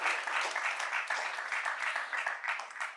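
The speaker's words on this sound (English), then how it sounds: "You may applaud if you enjoyed the conversation." An audience applauds after a panel conversation on an emissions trading policy, dense sustained clapping from a sizeable crowd, fairly loud and continuous throughout with no voices on top.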